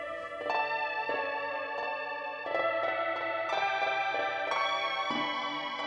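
Bright electronic synth tones from the EarthBound video game soundtrack, with a clicky attack on each note and long ringing sustain, notes changing every second or so with layered, echoing texture.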